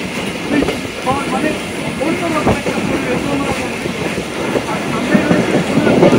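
The Mongla Commuter local train runs between Jessore and Khulna in the rain, heard from inside a carriage as a loud, steady rumble with clattering wheels and hiss.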